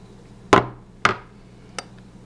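Three sharp metallic hammer strikes drive a roll pin punch into an AR-15 bolt catch, two firm blows about half a second apart followed by a lighter tap, close and clear in a quiet room.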